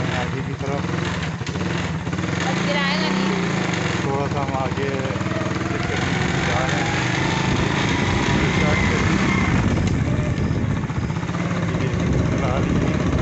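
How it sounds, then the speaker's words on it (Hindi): A scooter engine runs steadily while being ridden, a close, buzzing drone with wind rush throughout, as someone talks briefly over it. "यदि मैंने स्कूटर स्टार्ट कर ली है"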